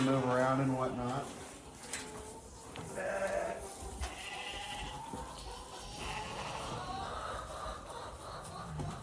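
Sheep and goats bleat on a farm being prepared for winter, several calls in the first seconds giving way to a busier mix of animal noise and farmyard sounds, fairly close and loud.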